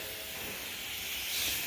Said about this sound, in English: And what you do is you just spray it on there.